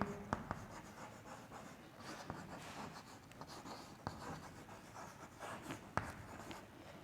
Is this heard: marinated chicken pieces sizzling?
no